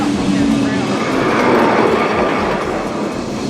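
A Lisbon tram rolls along city tracks with a dense, steady rumble and rattling clatter heard from inside the car, loud and continuous throughout.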